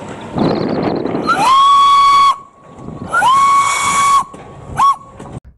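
A green toy Thomas train gives two long, loud whistle blasts, each about a second long with a bright tonal pitch, followed by a brief third toot, with hissing noise in between.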